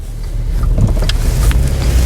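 Volkswagen V6 car pulling out of a dealership lot in winter and accelerating, a steady low engine rumble with road and wind noise rising gradually, fairly close and continuous.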